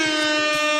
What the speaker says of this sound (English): Ah, the return of the air horn.